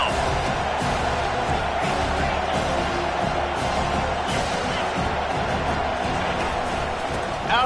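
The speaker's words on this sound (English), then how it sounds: "this crowd is tearing the lid off this place" A packed football stadium crowd roars steadily during a Michigan at Notre Dame game, a dense sustained wall of cheering and noise heard at a distance under a commentator's voice.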